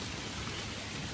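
Steady outdoor rain starts to fall near a kayak, a dense, even patter of drops that fills the moment with no voices.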